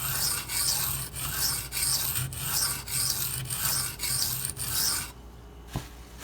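A Benchmade 9400 knife blade scraped in repeated rasping strokes across a coarse Shapton Glass sharpening stone, about ten steady close strokes, then stopping with one faint tap.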